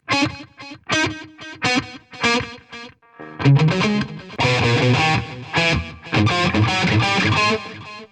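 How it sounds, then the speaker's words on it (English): Electric guitar notes ring out through simultaneous slow and fast delays, short quick repeats stacked over longer trailing ones, building into a dense wash of sound. "I have a slow delay and a fast delay going on at the same time."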